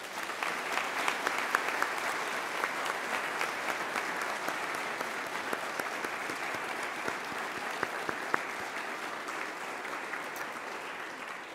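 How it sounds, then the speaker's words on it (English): An audience at a public service awards ceremony in Newfoundland and Labrador applauds in a steady, even wash of clapping that runs the whole length at moderate distance. "Please give them a round of applause."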